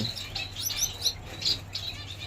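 A pair of blue-faced parrot finches chirps in short, high, thin tweets, scattered and fairly faint over a low background hum.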